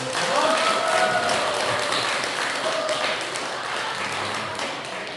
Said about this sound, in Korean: 우리 태영님께 큰 박수 부탁드립니다